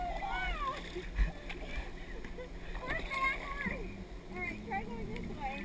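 Paddle splashes from a tandem kayak on the White River, with water sloshing near the boat while people talk throughout.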